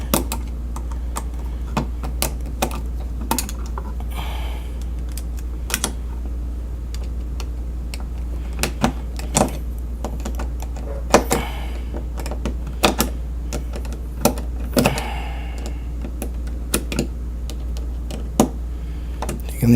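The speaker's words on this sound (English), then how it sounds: "Taking these screws loose." Screws are turned loose during electrical work. Sparse sharp clicks and ticks come at irregular intervals over a steady low electrical hum, with occasional small metallic rattles, close by and with no speech.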